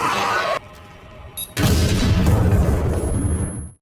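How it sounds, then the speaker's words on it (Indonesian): An explosion bursts at an aircraft door, a loud deep boom after a brief lull, its rumble fading out over a few seconds. "Dengan ledakan di pintu pesawat"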